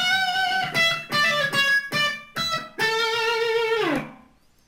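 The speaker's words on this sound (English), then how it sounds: "Okay, so that whole line sounds kind of like this." Electric guitar playing a melodic rock lick on Pachelbel's Canon, with hammer-on and pull-off phrasing: a run of quick distinct notes, then a held note sustained for over a second before it fades, loud and alone.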